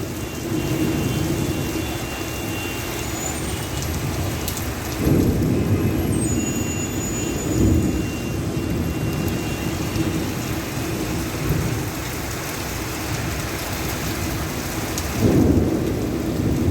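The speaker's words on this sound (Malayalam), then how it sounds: "നല്ല മിന്നും മഴയും." Heavy rain pours steadily in Jeddah, Saudi Arabia, with lightning, while deep rumbles of thunder roll in at intervals, one around the middle and another near the end.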